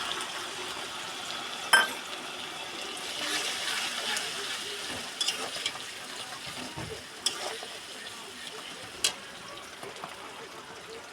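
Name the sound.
spices sizzling in hot oil with fried onions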